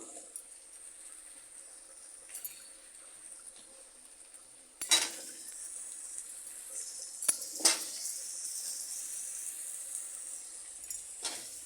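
Diced potatoes and chopped tomato are stirred in a cooking pan with a soft sizzle underneath, broken by several scraping and clinking strokes of a spoon against the metal.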